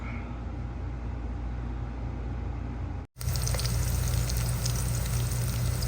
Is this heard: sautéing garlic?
yes